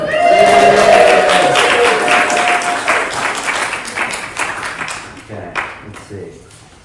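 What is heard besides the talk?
audience applause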